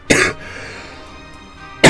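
Two sharp, close coughs from a Japanese game commentator, one at the start and another at the very end, with a quiet pause between them.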